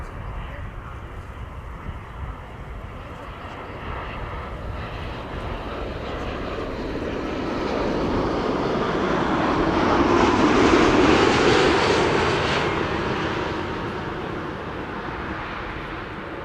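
A Delta Airbus A330neo arriving at Amsterdam Schiphol, its engine roar building steadily to a loud peak near the end before fading, with a voice talking over it.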